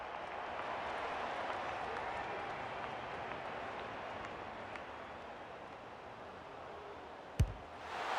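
Simulated stadium crowd at an AFL 26 football match between the Crows and Lions, a broad washing roar of applause and cheering that holds steady then slowly fades, with a sharp thud near the end.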